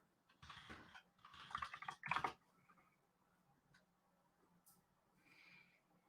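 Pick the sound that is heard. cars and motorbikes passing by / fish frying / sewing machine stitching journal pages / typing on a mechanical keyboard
typing on a mechanical keyboard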